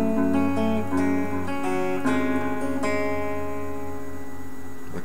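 Guitar playing the intro of a song, alone and close, as ringing picked notes and arpeggiated chords in a steady rhythm. The strings are left sustaining and slowly decay at the end.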